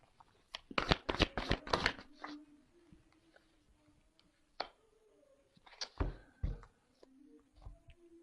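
Tarot cards being handled and shuffled during a card reading, a fast flurry of crisp riffling bursts early on, then scattered softer card snaps and rustles later, close and fairly loud with no talk.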